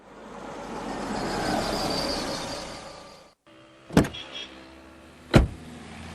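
A car sound effect in a radio drama set at a railway station: a steady engine-and-road rumble fades out, then a car door shuts twice with sharp, close thuds.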